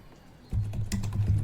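Typing on an HP laptop keyboard, a quick run of close, crisp key clicks starting after a brief quiet moment and continuing steadily.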